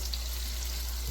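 Onions fry and caramelize in a kazan, a steady, even sizzle with a constant low hum underneath and no voices.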